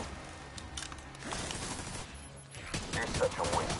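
Bursts of rapid automatic fire from an assault turret in The Division 2, a rattling fusillade of shots at middle distance that grows louder toward the end, with game voices faintly underneath.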